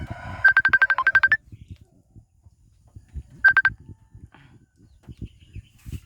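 A mobile phone rings with an incoming call: a rapid bright electronic ringtone pattern that repeats in two bursts, then stops and returns briefly. Low talk and room sounds surround it.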